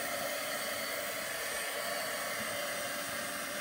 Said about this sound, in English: let me heat emboss this